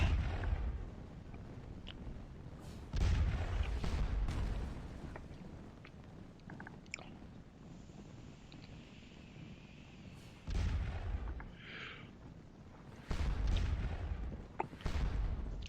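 Napoleonic cannon fire in the Scourge of War: Les Cent Jours battle game, with heavy booming salvos arriving in several bursts at roughly three-second intervals over a continuous low rumble of distant battle, no voices.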